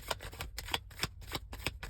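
Tarot cards are shuffled in quick riffling bursts, a steady run of crisp flicks and taps close by with no voices.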